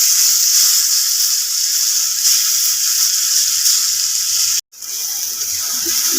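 Pointed gourd paste fries in a pan with crushed garlic, giving a bright, constant hiss close by that cuts off briefly near the end, with no talking.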